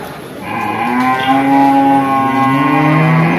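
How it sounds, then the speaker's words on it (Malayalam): Buffaloes at a busy open-air cattle market low and moo in long, loud, drawn-out calls close by, one call running into the next with no talk over them. "ഇന്നത്തെ കൊള്ളരൂർ ചന്ത എരുമ കന്നുകളൊക്കെ എല്ലാം വന്നിട്ടുണ്ട്"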